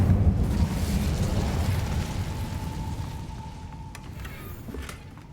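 An Incendio fire spell in a Hogwarts wizarding game bursts with a loud, close whooshing roar that fades steadily over a few seconds, alone with no talking.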